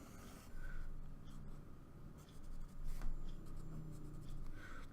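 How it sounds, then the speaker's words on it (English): A marker squeaks and scratches steadily across a surface while a line is drawn on a graph, close and continuous in a few strokes with brief pauses. "Draw my last line here."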